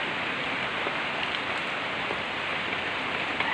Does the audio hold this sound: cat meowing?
no